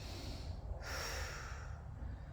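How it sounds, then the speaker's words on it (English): Heavy, deep breathing during a stretching routine in a garage workout, a long steady exhale close to the microphone with a sharp intake partway through. "Notice how I'm always breathing."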